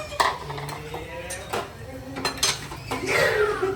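A metal spoon stirs coriander into gunda vegetable curry in a pan, giving several close clinks and scrapes against the metal in an uneven rhythm, with faint voices in the background.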